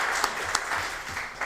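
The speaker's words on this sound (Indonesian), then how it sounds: "tepuk tangan kita semua ini luar biasa ini" A talk show audience applauding at a small-business financing event, a short steady burst of clapping from a crowd.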